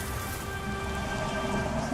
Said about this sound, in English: Heavy rain is awesome.